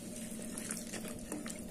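Steady running water pours continuously for a moment into a pan of vegetables, a close, even splashing stream filling the vessel, with no voices.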